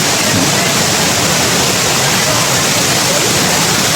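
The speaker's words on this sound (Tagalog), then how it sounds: "So, nandito na kami ngayon sa Tagbibinta Falls." The 120-foot Tagbibinta Falls pours with a constant broadband roar, loud and close, a dense unbroken rush of falling water.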